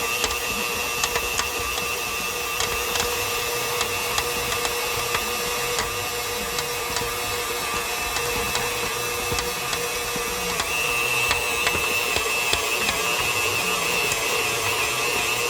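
A stand mixer or similar machine works butter into batter for Day of the Dead bread, a steady whirring motor hum with faint repeated ticks and clicks, fairly quiet and continuous.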